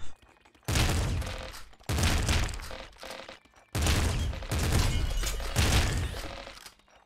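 Assault slugger gunfire in the roguelike game Nuclear Throne, with dense, rapid blasts in three long bursts separated by brief pauses, loud and crunchy with shattering impacts.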